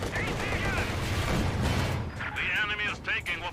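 An anti-tank gun firing in Company of Heroes 2 on a winter battlefield, a heavy blast and rumble of battle with a voice talking over it throughout.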